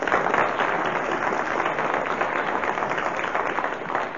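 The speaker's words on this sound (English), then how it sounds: "we must applaud him for his arduous attempts" Studio audience applause on a Just A Minute radio panel show, a loud, dense, continuous wash of clapping from a full room lasting several seconds.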